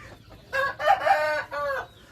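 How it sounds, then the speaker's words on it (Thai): Hens of a Thai fighting-chicken line give several close, loud clucking calls in short bursts, with brief pauses between them. "ไก่เปียวนะครับ"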